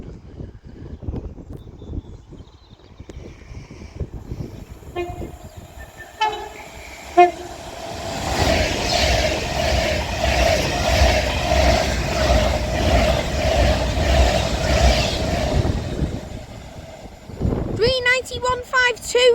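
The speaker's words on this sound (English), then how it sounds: "Passing through is going to be an Avanti West Coast Class 390 Pendolino." An Avanti West Coast Class 390 Pendolino passes through Acton Bridge on the West Coast Main Line, a rising rumble swelling into a loud, sustained rush with a horn blast near the end.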